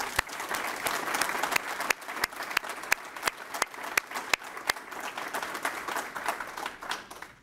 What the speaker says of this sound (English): please join me in giving a round of applause to all of the recipients